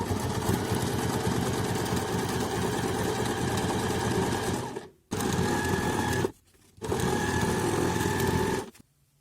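A domestic sewing machine stitches a decorative pattern through fabric backed with interfacing, running steadily in a close, loud, even whir that stops briefly twice before resuming.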